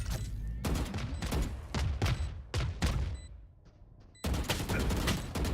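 Rapid bursts of gunfire from the video game Valorant, several loud volleys in quick succession with short gaps, during a collegiate esports match, heard alone without talk.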